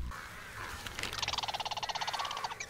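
A crow in the video game Tearaway Unfolded gives a rapid, rhythmic run of harsh caws, close and clear, lasting a couple of seconds over a quiet ambient background.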